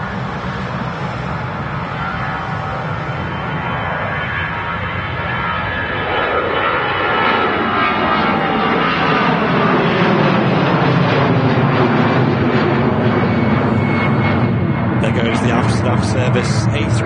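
Airbus A320 airliner at Manchester Airport, its engine roar building steadily and staying loud and continuous, heard from a spotting position with people talking over it.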